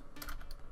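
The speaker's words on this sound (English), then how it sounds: "you're going to type in 90 and hit the enter key" Quick keystrokes on a computer keyboard while entering a value into SketchUp modeling software, a few close, light clicks in a short burst with no talk.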